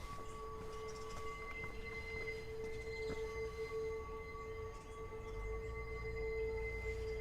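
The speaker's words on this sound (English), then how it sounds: "The number 2 train" A continuous rumble of an elevated number 2 subway train in the Bronx, New York City, with a high, steady metallic whine, heard from a moderate distance with no voices.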